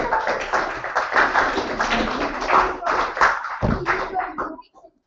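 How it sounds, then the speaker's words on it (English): Spectators at a chess championship prize-giving give a round of applause, with clapping mixed under people talking, before it tapers off and fades at the end. "Round of applause."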